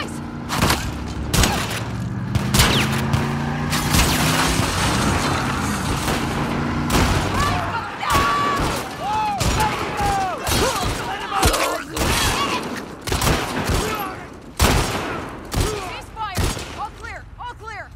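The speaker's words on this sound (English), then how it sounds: "Heard all the shooting." Combat gunfire in The Last of Us Part II during the Isaac Dixon chapter: loud, sharp shots and rattling bursts with thuds and shattering impacts, spread across the stretch alongside character voices.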